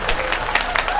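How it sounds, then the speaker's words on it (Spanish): A concert hall audience at a symphonic performance by a string orchestra bursts into loud, sustained applause, dense clapping filling the space with scattered cheers mixed in. "fuerte, fuerte el aplauso"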